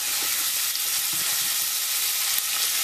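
Onions going into a frying pan for sauerkraut give a steady, bright hiss of frying with a few faint stirring touches throughout.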